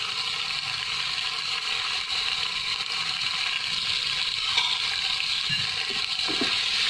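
Beef and garlic-ginger paste fry in a pot, making a loud, continuous, hissing sizzle with a few faint clinks near the end and no voices.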